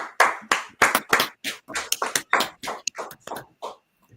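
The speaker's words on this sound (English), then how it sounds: "Clap it up." An audience at an ISUPK gathering claps in a series of sharp, uneven bursts that gradually thin out and fade, close and fairly loud, with no talking.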